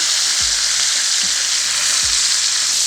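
Meat frying in a hot pan for a stew with vegetables, beans and mushrooms gives a steady, close, loud sizzle with no gaps, broken by a couple of soft low thumps as pieces are stirred or moved.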